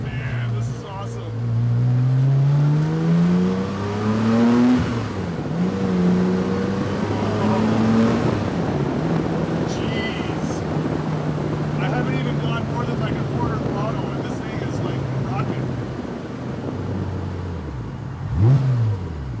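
A car on its first drive after a major drivetrain upgrade, the engine revving up through gears with rising then falling tones before settling into a steady cruising hum with wind noise, someone talking over it at times.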